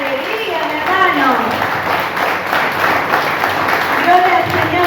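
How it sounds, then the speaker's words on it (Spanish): A church congregation applauds during a Sunday service, with clapping rising as a rough wash beneath a dominant speaking and singing voice and musical tones throughout. "denle un fuerte aplauso al Señor, con gozo, con alegría"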